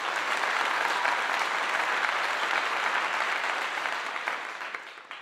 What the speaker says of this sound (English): Round of applause for those sisters